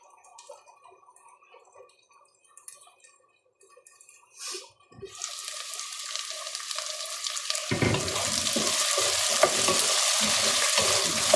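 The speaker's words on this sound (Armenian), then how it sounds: "Տապակվում" Food sizzling in a pan, starting quiet with faint clinks, then a loud, dense frying hiss that swells after a few seconds and holds steady close up, without talk.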